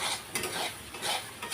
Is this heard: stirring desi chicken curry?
yes